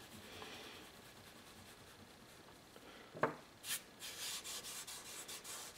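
Soft, faint rubbing of an eraser lifting charcoal off drawing paper while shading a sphere, with a few short scrubbing strokes in the second half of an otherwise quiet stretch.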